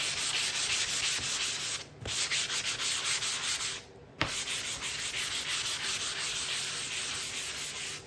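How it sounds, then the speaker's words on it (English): Hand sanding of a painted wood sign: close, rhythmic back-and-forth abrasive rubbing in quick strokes, breaking off briefly twice as the piece is handled, with no talk. "I'm gonna sand those out. Okay, I'm gonna flip it over, sand the other side."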